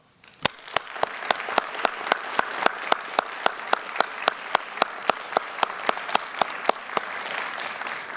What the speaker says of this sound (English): join me in a round of applause for our graduates of 2025